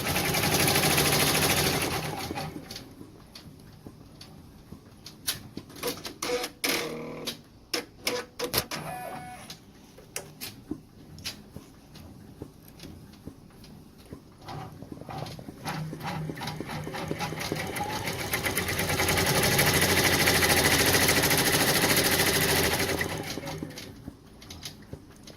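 A computerized embroidery machine stitches pink detailing on a bunny design, its needle chattering in irregular rapid bursts with pauses, plus stretches of steady whirring motor noise near the start and end.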